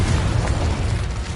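Confringo explosive spell blast in the Hogwarts Legacy video game, a loud continuous rumbling burst with heavy low-end boom lasting throughout, no voices present.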